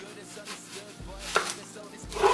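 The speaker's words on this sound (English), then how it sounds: "We're just gonna be using half an onion slice for this." Half an onion being sliced with a knife, a few soft close cuts and board knocks spaced apart, quiet and without speech.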